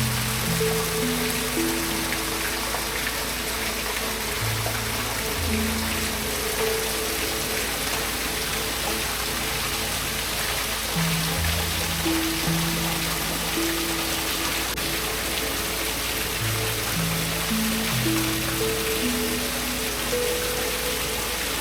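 The waterfall at Cantwell Cliffs in Hocking Hills, Ohio, keeps up a steady, even hiss of falling water, with soft melodic tones drifting over it the whole time.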